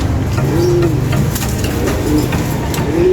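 Pigeons cooing in soft repeated calls over a steady background rumble, close by and fairly loud.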